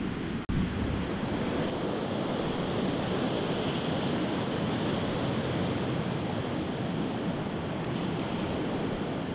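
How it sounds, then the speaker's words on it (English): Surf rolls steadily onto a black sand beach below dark slate rock, a continuous close wash of breaking waves with some wind noise on the microphone and no talk. "Aberaithe is a black sand beach"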